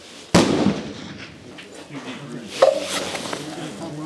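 A single sharp gunshot rings out at a competition target, followed by a short echoing decay and a second fainter impact-like crack a couple of seconds later.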